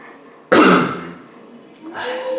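A single loud cough or throat clear from a French-speaking player during a Zelda Twilight Princess let's play, a sharp burst that fades over about a second, followed by quieter murmuring.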